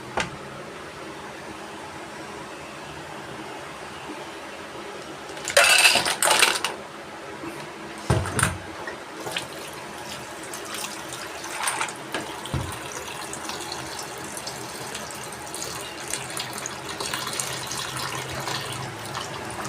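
Tap water runs into a bowl where mussels are set to soak, with a loud gush early, then clinks and splashes against the bowl and a steady faint trickle. No one speaks.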